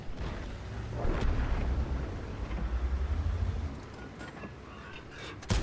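A deep tank-cannon boom in a video game rolls out, followed by sustained low rumble and a few sharper blasts near the end, loud and without voices.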